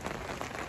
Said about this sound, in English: it's just raining constantly